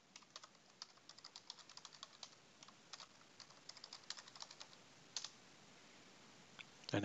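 A password being typed on a computer keyboard: a quiet, close run of quick, uneven key clicks in short bursts, with no talk.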